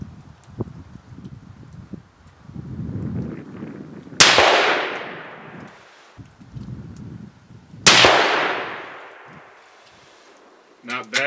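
A rifle wearing a Sightron SIII 8-32x56 scope fires two sharp, loud, close shots a few seconds apart, each ringing out in a long decaying echo, with low handling rumble in between.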